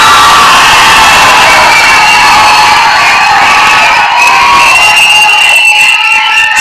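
A large audience cheers and shouts loudly for actor Santhanam at a speech event, forming a dense, continuous roar of voices that stays at full volume throughout.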